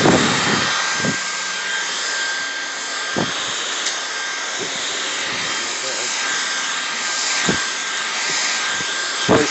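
A Dreametech R10 cordless stick vacuum with a spinning canister runs with a steady, even motor whine and airy rush throughout, broken by a few soft thumps as it is moved around.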